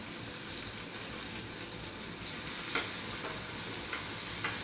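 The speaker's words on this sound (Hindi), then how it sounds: "अभी डाल देंगे बारीक कटा हुआ 2 मीडियम साइज का प्याज, इसको भून लेंगे अच्छे से" Two medium onions, finely chopped, fry in a pan with cumin seeds, giving a steady broadband sizzle throughout with a few faint stirring clicks near the end.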